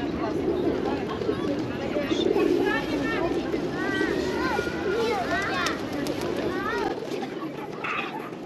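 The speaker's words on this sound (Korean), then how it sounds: "저는 지금 비둘기 사이를 걷고 있습니다." Pigeons cooing in a city square in Almaty, Kazakhstan: repeated rolling coos from several nearby birds over a constant outdoor hum of traffic and crowd, with someone talking through much of it.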